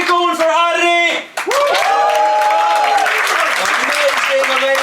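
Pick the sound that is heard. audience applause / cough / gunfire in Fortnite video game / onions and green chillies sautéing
audience applause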